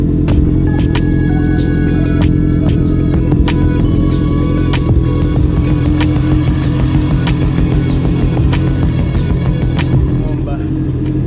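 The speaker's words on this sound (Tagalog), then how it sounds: "sound check din natin yung ating Two Brothers exhaust" A Honda CB650R motorcycle fitted with a Two Brothers Racing full exhaust system idles with a loud, close, steady rumble that holds for the whole stretch, with sharp ticking clicks over the drone.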